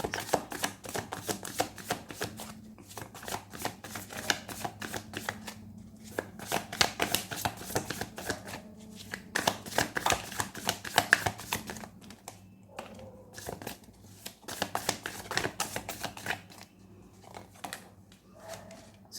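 Tarot oracle cards from a Light Seer's oracle deck are shuffled in rapid, dense bursts of papery riffles and slaps, continuing steadily with brief pauses against a low background hum.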